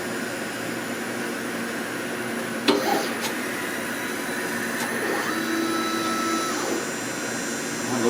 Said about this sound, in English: I'm gonna go ahead and hit the start button, and we're gonna get our first cut out of this machine after the update.